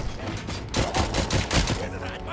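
Gunfire in the RoboCop: Rogue City video game: a dense, continuous volley of overlapping shots and impacts that swells from a constant background clatter and stays loud throughout.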